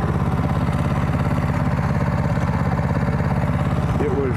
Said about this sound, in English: So now I'm even taking to the streets with this DR mower.